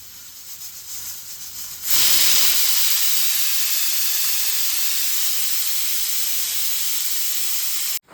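A pressure cooker of mutton chops bursts into a loud, steady steam hiss and whistle that holds for about six seconds before cutting off abruptly, after quieter kitchen background.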